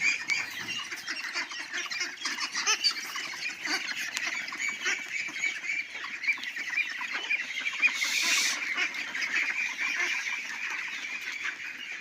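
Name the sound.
ducks on a farm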